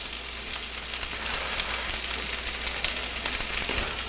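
Swordfish fillet, dusted in flour, frying in a hot pan with a steady dense sizzle and scattered crackling pops throughout, close and fairly loud, no voices.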